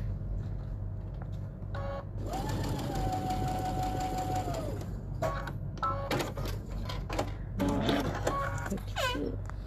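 A sewing machine stitches across a tissue pouch with fake binding, a close whirring run of several seconds followed by shorter bursts, clicks and handling noise over a low background hum.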